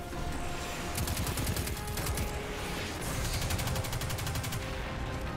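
Rapid gunfire bursts from the video game Destiny 2, with repeated automatic volleys and single shots over a constant bed of game action, loud and continuous throughout.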